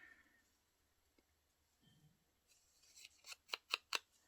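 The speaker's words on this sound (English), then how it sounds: "I figured I would just use my scissors." Quiet room tone, then a run of four or five crisp scissor snips cutting paper, growing louder and quicker toward the end.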